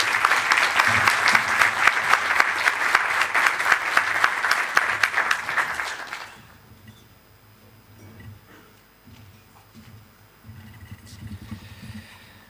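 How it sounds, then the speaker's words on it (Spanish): Strong applause from the audience at an informational breakfast event welcoming the president of the Port of Bilbao. Loud, sustained clapping lasts about six seconds, then breaks off, leaving a quiet room with faint shuffling. "os pido un fuerte aplauso para dar la bienvenida a Ricardo Barcala"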